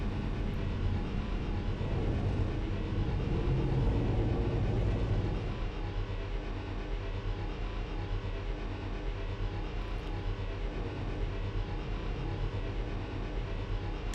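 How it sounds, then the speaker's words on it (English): A looping vehicle engine drone from the Star Wars Galaxies game plays as a steady, loud, low rumble that slightly shifts in tone partway through and repeats without pause. "I hate this car so much. Because you can tell exactly when the sound of it loops."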